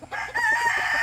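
A rooster crows once, close and loud, in a single drawn-out call that starts with a short rise and holds steady to the end.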